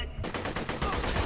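Shotgun blasts in Borderlands 2, a dense run of loud, rapid booming shots overlapping with game noise, after a brief quiet start.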